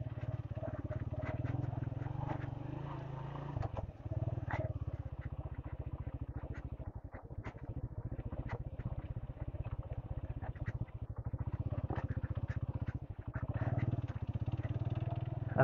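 A motorcycle rumbles steadily along a rough village track, its low engine drone continuous and close with wind buffeting and small bumps throughout.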